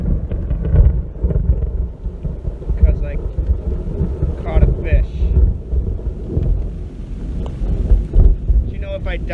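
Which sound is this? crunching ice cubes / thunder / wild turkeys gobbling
thunder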